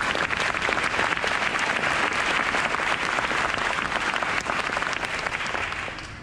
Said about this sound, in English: So a round of applause to our staff.